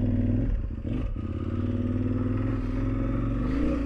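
Motorcycle on Metzeler Karoo 4 tires being ridden, a steady close engine drone with wind rush and some clatter, holding a fairly constant loud level throughout.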